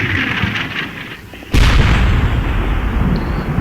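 Battle sounds in Combat Mission: Shock Force, a left-flank machine gun position firing amid artillery, with a dense rumble of gunfire and then a loud, sudden blast leaving a heavy, sustained roar of explosions.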